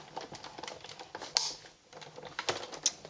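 Stitched-shape framelits dies are cranked through a die-cutting machine to cut shapes from red card, giving an uneven run of close, dry clicks and clattering taps, with two sharper snaps standing out.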